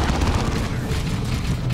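Grenade and heavy bolter blasts in the Dawn of War 2 game roll together into a dense, loud, continuous barrage of booms and rapid fire.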